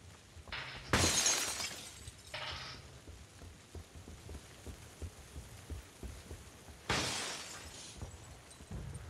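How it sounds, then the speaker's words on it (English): Glass shatters in PLAYERUNKNOWN'S BATTLEGROUNDS, two loud bright crashes about six seconds apart with a smaller burst between them over low game ambience. "Breaking glass."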